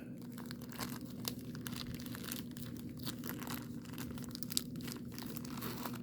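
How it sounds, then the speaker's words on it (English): Older sealed trading card packs, including a Christmas pack, are torn open by hand without scissors, giving several seconds of quiet, steady crinkling and ripping of paper wrappers up close. "see if they'll tear without me getting these scissors"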